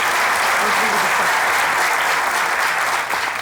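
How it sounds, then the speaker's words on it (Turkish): Studio audience at the Turkish comedy stage show Güldür Güldür Show breaks into loud, sustained applause, a thick, even roar of clapping that holds for the whole stretch. "Kocaman bir alkış."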